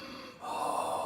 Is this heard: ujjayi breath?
yes